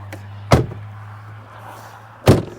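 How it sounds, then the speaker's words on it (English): Rear barn doors of a 2005 Ford Excursion Eddie Bauer, two sharp door thunks about two seconds apart over a low steady engine hum, no talking. "both barn doors did open"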